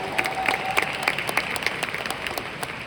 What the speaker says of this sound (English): Can we give Riway a round of applause today?